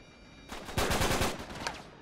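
Automatic gunfire in Uncharted 3: Drake's Deception breaks in suddenly as a rapid, loud burst of shots that trails off, following a moment of quiet hum.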